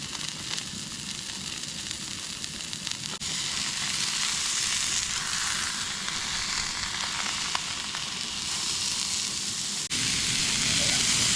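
A burger frying on a camp stove outdoors on a Nevada trip gives a steady, dense sizzle with crackling that runs the whole time, close and loud, with no clear speech over it.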